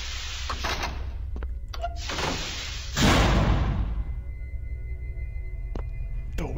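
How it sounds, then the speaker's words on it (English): A heavy door slams shut inside a facility in the game SCP Containment Breach, one loud booming thud standing out over a steady low ambient drone, with no voices. "Door was loud."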